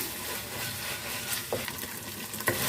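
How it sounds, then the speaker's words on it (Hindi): Mutton keema sizzles steadily in a karahi while being stirred, a dense loud frying hiss with occasional scrapes of the spoon, close up and without speech. "कीमे को हमने 3 से 4 मिनट के लिए भून लिया है।"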